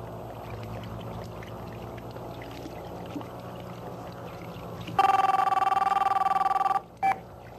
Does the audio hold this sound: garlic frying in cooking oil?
no